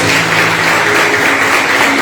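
Dense, continuous applause from a church congregation, loud and close, sustained throughout with no voices above it.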